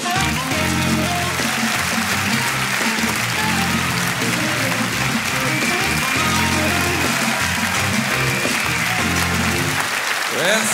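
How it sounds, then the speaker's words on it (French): A comedy gala audience applauding loudly and continuously for a stand-up comedian's entrance, with dense clapping, cheers and music running underneath throughout. "je vous demande de faire un tonnerre d'applaudissements"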